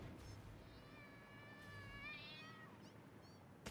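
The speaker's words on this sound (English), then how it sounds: "Oh, I hear kitties." Cats meowing faintly in the background, several thin rising and falling mews in quick succession over a low steady hum, with no talking.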